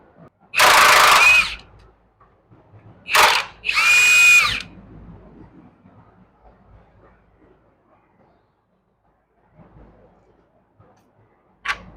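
A 1/2 inch impact gun working on suspension bolts: two loud, close bursts of rattling hammering, the second broken into two quick pulses, then long near-quiet with faint shop noise and a brief final burst.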